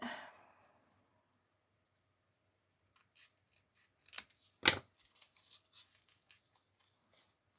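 Scissors cut paper or card in a quiet room, with a few scattered snips and rustles and one sharp, louder cut partway through.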